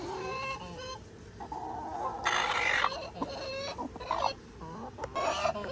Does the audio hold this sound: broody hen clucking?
yes